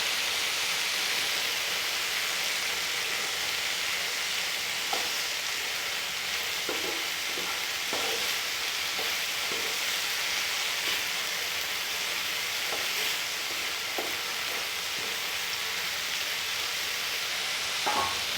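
Vegetables with fresh green coriander cook in a pan, producing a continuous soft sizzle with occasional light clicks and stirring scrapes, steady and without speech.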